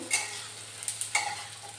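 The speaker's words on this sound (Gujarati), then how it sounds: "ધીરે ગેસે ગુંદને તળવાનો છે" Soft, low sizzling of edible gum frying gently in ghee over low heat, with a few light clicks and scrapes from stirring.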